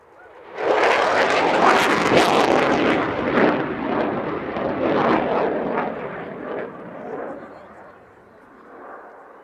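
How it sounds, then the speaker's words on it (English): A Eurofighter Typhoon FGR4 fighter jet roars past at the Cosford Airshow 2022. The thunderous, rushing engine noise hits loudly within the first second, then slowly fades as the aircraft moves away. "Now the aircraft will descend into a high G 360-degree turn."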